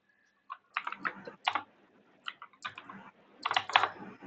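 HTML code is typed on a computer keyboard, with close, crisp keystrokes coming in uneven bursts separated by brief pauses.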